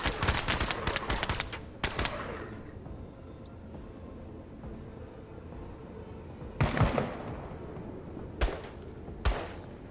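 Gunfire rings out in the tactical game Menace on expert difficulty, a rattling volley at first, then a few sharp isolated shots spaced seconds apart, moderately loud over quiet ambience.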